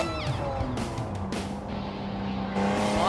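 A 1992 Honda NSX Type R racing in Gran Turismo 7, its engine note rising and shifting pitch as the car accelerates through a run with brief tire noise, steady and fairly close.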